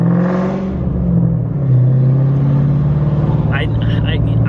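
A tuned, cammed Ford Mustang GT with an FBO setup of over 400 horsepower gives a smooth, short pull, its engine droning close and rising briefly in pitch under a person talking from inside the car.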